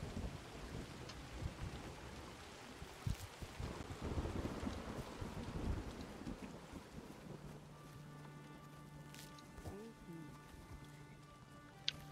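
Rain and thunder in the video game GORD: a soft, steady downpour with a deep rolling rumble swelling midway, then tonal game sounds over the rain. Speech is present.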